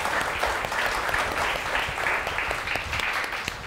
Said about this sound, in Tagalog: Palakpakan nga natin si Lord